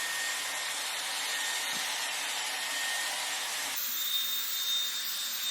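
Dyson Airwrap styler blowing hair dry, a steady close whooshing roar of airflow with a slight shift in tone partway through, no talking.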